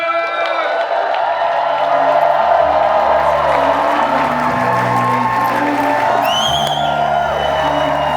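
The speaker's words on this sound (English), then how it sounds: "let's have a big round of applause for Steve Holbrook!" Applause and cheering from a convention crowd in Banff for Steve Holbrook, with whoops and shouts over clapping while music plays underneath and voices call out.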